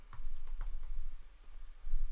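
Typing on a computer keyboard while entering an address into a real-estate landing page form, a few quick, light key clicks close by over a steady low background hum.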